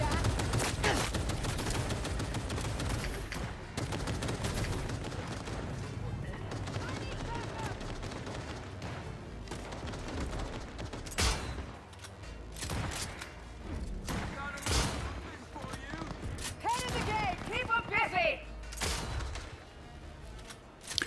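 Rapid video game gunfire, including shotgun blasts, comes as dense bursts of bangs and thuds while people talk excitedly over the shooting.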